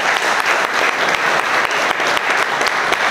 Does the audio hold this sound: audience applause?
yes